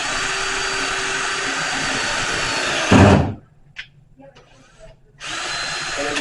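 A power drill drives a fastener in a blacksmith's shop while making a brush hook, whirring loudly and steadily for about three seconds before stopping, followed by faint small clanks and then a burst of broadband shop noise.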